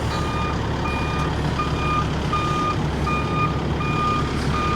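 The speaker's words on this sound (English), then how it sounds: "he's gonna bring in the truck and" A truck backing up on a septic system installation site, its reversing alarm beeping in a regular repeating rhythm over a loud, constant diesel engine rumble, with no voices.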